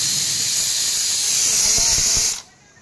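Fish curry boiling in a pot on the stove, a loud steady steamy hiss with faint bubbling pops near the end, then cutting off abruptly to quiet.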